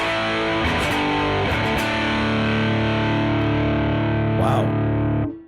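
An electric guitar runs through a Centurion overdrive pedal into a Mixwave amp simulator, giving a thick, heavily distorted sustained chord with a few picked re-attacks and scrapes before it cuts off abruptly near the end.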